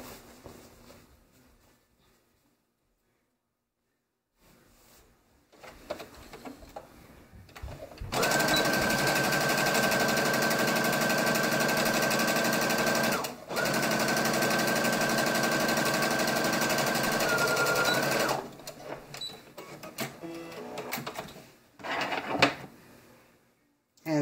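A sewing machine stitches the side seams of high-waisted shorts, running in a loud steady whir for about ten seconds with one brief pause midway, preceded and followed by quiet handling noises.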